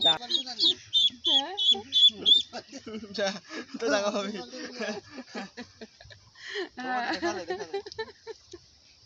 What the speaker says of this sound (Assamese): আমাৰ মায়ে হাঁহ পোৱালিটো লৈ আহিছে